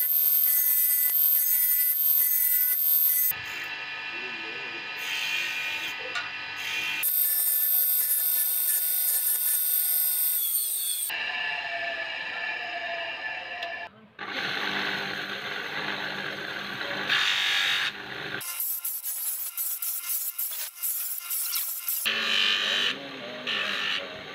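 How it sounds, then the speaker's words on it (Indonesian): A grinding machine whines and rasps loudly in long bursts while shaping shell and buffalo horn for a pendant, its pitch shifting as material is pressed against it, with short pauses between passes. "Jadi kita bentuk menggunakan mesin gerinda."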